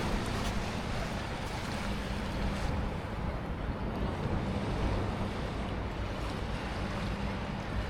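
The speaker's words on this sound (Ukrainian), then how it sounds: "Чути шум моря." Sea waves washing on a Spanish beach, a continuous broad roar of surf mixed with wind buffeting the microphone, steady and loud with no talk.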